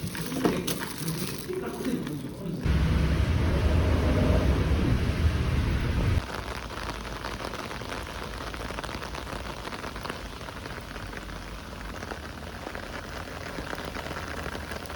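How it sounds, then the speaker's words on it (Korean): Heavy rain in Seoul pours down as a steady, dense hiss with a deep rumble, loudest for a few seconds before easing to a constant wash of falling water. "오늘 서울에 비가 엄청 많이 와가지고 재택을 하게 됐어요"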